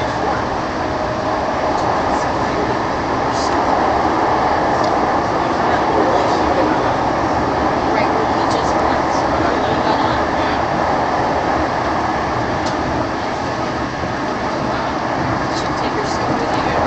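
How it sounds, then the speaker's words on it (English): A TRAX red line light rail train on the Daybreak line runs with a loud, steady interior rumble and rolling rail noise, heard from on board with faint clicks and rattles. "This is a red line train to the University."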